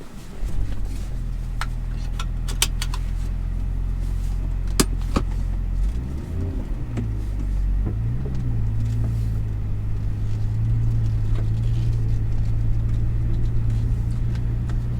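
A BMW M5 Touring wagon pulls away, its engine rumbling low and steady from inside the cabin, with a gear change midway and a few sharp interior clicks.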